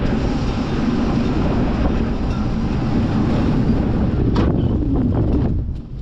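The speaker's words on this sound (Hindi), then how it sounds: "हवा हवा चल रही है फुल ऑन।" Strong wind roars steadily past a moving vehicle at night, a loud broadband buffeting that stays constant throughout and eases slightly at the very end.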